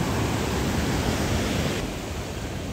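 Sea waves breaking on a shore in the early morning, a steady, dense wash of surf with a faint wind hiss, continuous and fairly close, with no voices.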